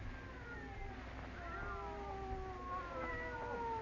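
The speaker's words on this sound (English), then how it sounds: "They're not ordinary cats. Listen to them." Cats in an old-time horror radio drama yowl and caterwaul in long, wavering, overlapping cries, set in a very quiet house with a steady low background hum.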